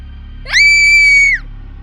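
Girl screaming in a cave in a horror story, a single shrill sustained shriek lasting under a second, rising sharply then cutting off over a low ambient hum.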